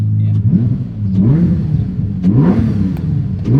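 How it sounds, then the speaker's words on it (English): A McLaren Senna supercar on its stock exhaust revs hard in repeated throttle blips, a deep mid-range engine rumble rising and falling up close, with voices talking faintly beneath. "Exhaust sounds good, even though it's stock."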